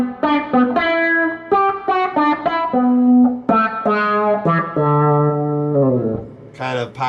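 A Mu-Tron auto-wah guitar effect on an electric guitar, a run of sustained, gliding notes with sweeping filtered tone and held phrases, loud and close with no talk over it.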